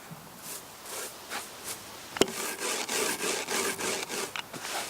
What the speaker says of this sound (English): rub the flower heads between your hands and then crush them using a rolling pin